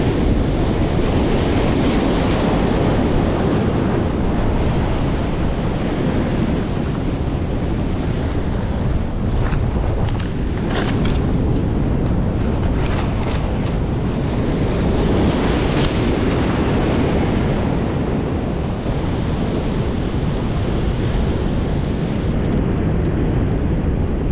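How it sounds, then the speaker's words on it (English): Large ocean waves break on a Portuguese shore in a continuous, loud roar of surf mixed with heavy wind buffeting, with no voices present. "the waves are too big"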